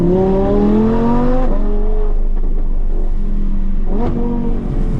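An Audi R8 V10 Plus engine revs hard and close on an alpine road, rising in pitch, dropping sharply on a shift, then climbing again before another quick shift.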